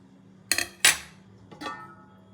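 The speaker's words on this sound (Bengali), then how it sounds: "এবার মাছটাকে আমি সার্ভ করে নেবো প্লেটে" Mustard-paste khoira fish is served onto a plate, giving three distinct clinks and scrapes of utensil on dish, sharp and close, with short pauses between them in a quiet kitchen.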